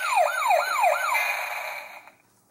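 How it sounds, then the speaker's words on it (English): The BoonBoomger DX toy axe plays its siren and builder mashup effect, close and clear: three rapid electronic wails roll into a held buzzing tone that cuts off near the two-second mark. No one speaks over it. "You can have a siren builder mashup noise there."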